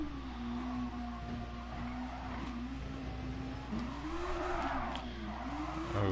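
A race car engine in a racing video game sustains a steady, rising and falling drone as it accelerates. The note wavers through gear shifts, with a faint squeal of tires and no talk over it.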